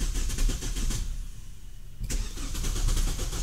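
A Mahindra XUV300 engine cranks in cold weather around 10 degrees, the starter churning rhythmically, pausing briefly, then cranking again with a sharp catch, close and loud with no talk.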